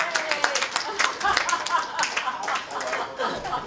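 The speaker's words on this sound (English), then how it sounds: "Give them a round of applause." Brief clapping from diners at a Rotary Club veterans dinner greets two arriving co-presidents, a light patter of hands with scattered chuckles and voices mixed in.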